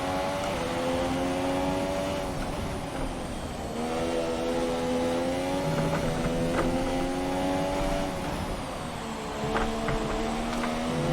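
An F1 car engine in the F1 2017 racing game at Monza holds a high, loud whine that rises and falls in pitch through gear changes, steady and close throughout, with no talk.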